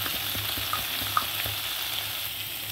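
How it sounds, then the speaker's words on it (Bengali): Potatoes frying with spices, black pepper and black salt in a pan, a close, steady sizzle with soft stirring scrapes and one sharp tap, no talking. "এবার আলুটার সঙ্গে একটু ভালো করে মশলাটা কষিয়ে নিলাম।"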